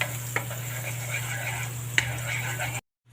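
Butter sizzles quietly in a frying pan for butter kangkong, a soft steady hiss with a couple of small clinks, then it cuts off abruptly.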